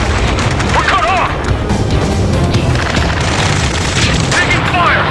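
Dense, continuous combat din from the video game Ace Combat 7, with booming explosions and gunfire layered under loud battlefield noise, while radio-style voices call out over the top.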